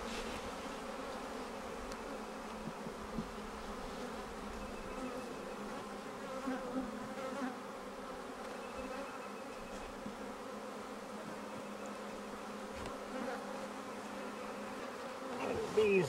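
A swarm of honey bees drones around a hive in a steady, dense buzz that holds evenly throughout at moderate loudness, with no voices.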